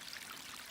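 A small rain-fed stream crosses a hiking trail in the Ouachita Flatside Wilderness, giving off a steady, close, hissing trickle of flowing water with no pauses.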